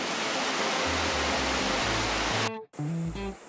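River flowing through forest along a hiking trail in Corsica, with small natural turquoise pools; a steady broadband rush of water fills the whole clip, loud and continuous, with a brief dropout near the end.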